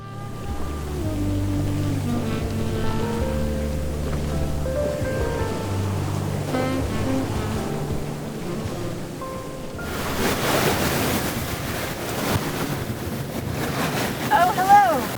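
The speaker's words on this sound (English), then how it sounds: "We're just absolutely smashing along upwind. There's waves coming over the bow" A sailboat smashes upwind with waves coming over the bow: tonal music fills the first part, then a loud, continuous rush of water and wind takes over, close and dense for the rest.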